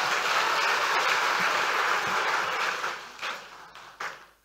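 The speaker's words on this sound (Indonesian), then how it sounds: "Tepuk tangan dong buat adik semua" An audience of mostly high school students at a financial education event clapping for them, a broad hiss of steady applause that holds, then thins and fades out near the end.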